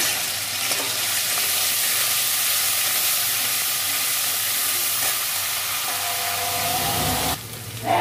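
Ginger, onion and garlic paste fries in mustard and white oil with a loud, steady sizzle that fills the whole stretch, briefly dropping away near the end.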